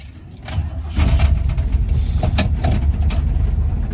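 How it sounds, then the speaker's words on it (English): A 1973 Chevy Impala engine starts and runs roughly with an uneven, ticking knock under a loud, steady rumble close by. "You can actually hear the truck, I mean the car, like knocking."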